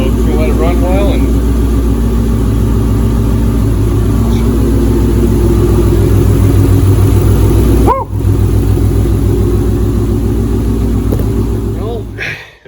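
A Ford Coyote V8 swapped into a 2007 Ford GT runs steadily at its first start-up, a loud, continuous engine drone with one brief dip before settling back to a constant idle.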